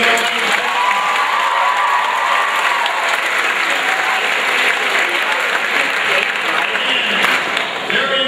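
A school talent show audience claps in a sustained, dense burst of applause, loud and close, with some cheering mixed in.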